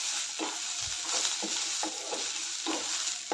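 Cluster beans (gavar) are roasted in a pan and stirred. A continuous sizzle is broken by several evenly spaced scrapes of the spoon, all close and steady.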